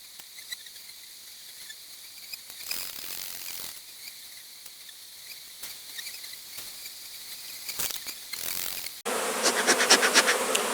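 A dense, steady buzz of many honeybees close by at an open hive during an autumn inspection, rising in intensity and growing louder and busier toward the end as the bees grow agitated.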